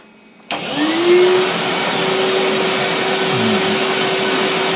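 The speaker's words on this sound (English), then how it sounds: "Here we go then, vacuum cleaner on." A vacuum cleaner at a DIY CNC router switches on abruptly after a short quiet moment, its whine rising in pitch then settling into a loud, steady drone.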